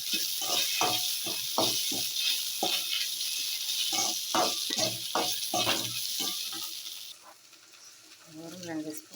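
Okra fries with onion in a pan for a tamarind curry, giving a steady hiss of sizzling broken by a rhythmic series of scraping stirs, close and fairly quiet.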